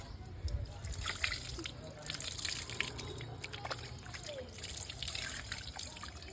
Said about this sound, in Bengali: জল ঢাল তো নন্দিনী, এই নিচ দিয়ে দে, নিচ দিয়ে